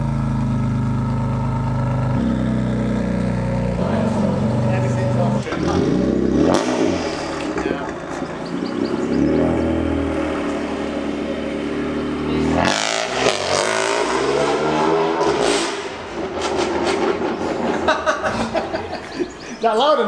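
A modified BMW M2 engine roars loudly and close by, with rising and falling revs and rough, deep exhaust drone, while people talk and laugh over it.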